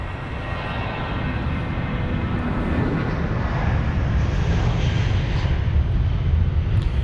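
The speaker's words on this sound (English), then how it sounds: "this is BA860 off to Prague, the A320-200" A British Airways Airbus A320-200 airliner departing Heathrow for Prague roars steadily with a broad, loud engine rumble that swells slightly toward the end, heard alone without voices.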